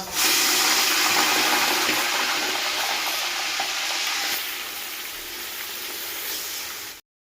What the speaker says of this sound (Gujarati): લસણને પહેલાં પાંચ મિનિટ શેકી નાખીએ